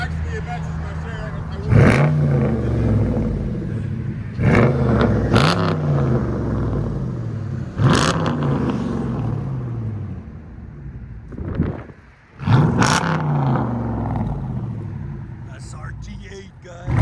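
A Dodge Charger SRT8 with a 6.1-litre V8 and Flowmaster Outlaw exhaust revs in sharp, repeated blips, each burst rising and then falling back to a rumbling idle, in cold weather.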